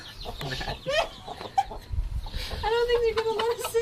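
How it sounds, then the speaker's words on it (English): Hens on a university campus farm cluck and squawk in short bursts, close by, mixed with people talking nearby. "We have chickens, campus chickens, and we get eggs and some meat from that."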